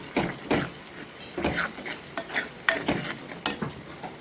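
Masala with small prawns for a thokku being sautéed in a pan, a spatula scraping and turning in repeated strokes over a soft sizzle, close and without speech.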